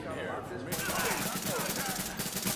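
Automatic gunfire in the video game Tom Clancy's The Division at Grand Central Station, a continuous rapid rattle of shots running the whole time at steady, moderately loud level with game voices over it.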